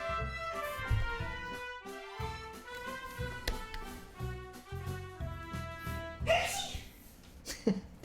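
A single sharp sneeze bursts out near the end, with a smaller noise after it, over steady instrumental music playing throughout.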